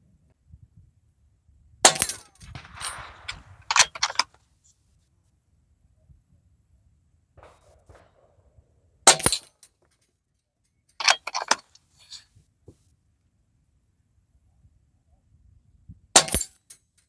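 A Webley Nemesis X PCP air rifle at an outdoor gun club range sends pellets into steel targets, giving sharp metallic pings and clanks in scattered single hits and short clusters separated by quiet.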